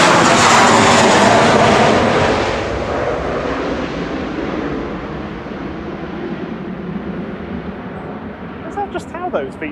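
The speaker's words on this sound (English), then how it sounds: "Just how those V2500 engines sound." An Airbus A321 with V2500 engines roars loudly departing Manchester Airport, a broad engine rumble that slowly fades as it climbs away, with faint voices near the end.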